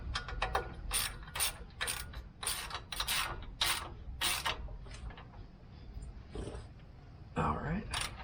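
Repeated metallic ratcheting bursts from a 9/16 wrench and socket tightening rear shock relocation bracket bolts on a Jeep JKU axle, close and fairly loud in quick uneven strokes, with brief pauses between runs.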